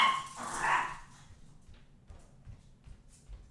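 Dogs are let in from outside: a brief burst of dog noise and movement at the start, then faint shuffling and soft thumps in an otherwise quiet room.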